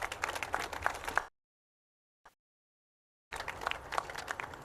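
An audience claps for Joe Crowley at Governor Cuomo's opening of a new flyover highway at LaGuardia. The applause comes in two bursts separated by a stretch of near silence.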